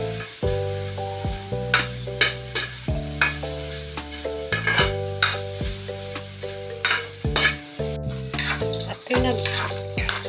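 Pork fat crackles and sizzles in a pan while frying to golden brown, with a busy hiss broken by frequent pops and stirring scrapes, and a steady tonal hum running beneath.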